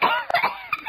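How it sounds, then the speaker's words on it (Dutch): A few short, harsh coughs in quick succession, close and loud, from someone choking on a piece of meat. "Hoest het uit je luchtpijp"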